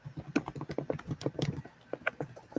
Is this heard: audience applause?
no